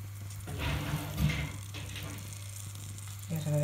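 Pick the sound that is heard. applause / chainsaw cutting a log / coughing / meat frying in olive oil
meat frying in olive oil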